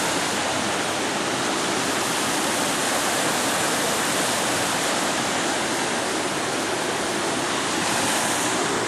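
A creek in spring woodland pours steadily as a dense, loud, unbroken rush of flowing water, with no voices over it.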